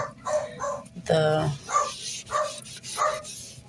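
A small dog yaps several times in the background while a person talks nearby, the barks coming in a loose rhythm.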